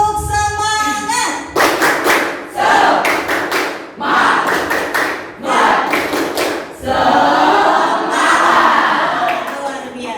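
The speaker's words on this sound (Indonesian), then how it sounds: "Tepuk semangat." An Indonesian school class performs the tepuk semangat spirit clap, bursts of sharp rhythmic hand claps and thumps with shouted chant-like voices, loud and close, coming in several pulsing rounds.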